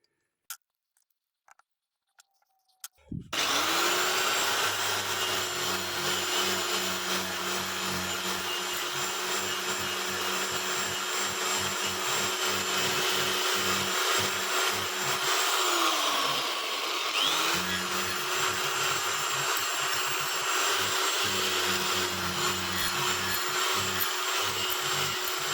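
A vacuum cleaner starts after a few small clicks and runs steadily and loudly with a brush attachment fitted to its hose, its drone briefly dipping around the middle as the airflow is blocked before recovering.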